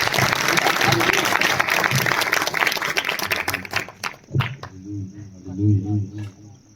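A church congregation applauds to welcome the pastor: dense, loud clapping fills the first four seconds, then thins out and gives way to low, sustained tones and murmuring.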